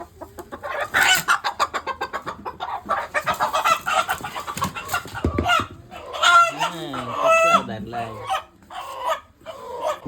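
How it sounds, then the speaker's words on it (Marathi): A village rooster of roughly two kilograms clucks in a quick rhythmic run, then gives louder drawn-out calls close by, with people talking over and between the sounds. "बघा मित्रांनो हा एक कोंबडा आहे"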